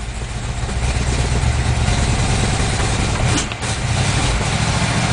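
A 1954 Ford Mainline engine idles roughly after a cold start on a December day, a loud, close, steady rumble with a brief dip in the middle, no voices.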